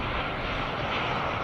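A jet airliner's engines roar during a takeoff roll at DFW Airport, a loud, steady broadband rush that fills the whole moment with no voices.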